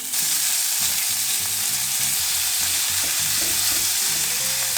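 Meat fries in cooking oil in a pan, giving a loud, continuous close-up sizzle and crackle with no voices.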